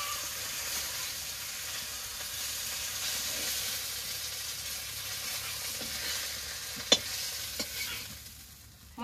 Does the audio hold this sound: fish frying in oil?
yes